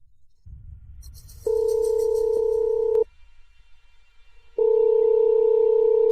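An outgoing phone call rings unanswered, two long steady electronic ring tones separated by a pause, clear and close with faint background noise.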